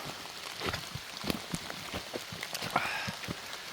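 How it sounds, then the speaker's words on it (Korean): Light morning rain falling on a mountain trail, a steady soft patter with scattered nearer drops and small taps throughout, moderately quiet with no talking. "아침에 비가 좀 오네요."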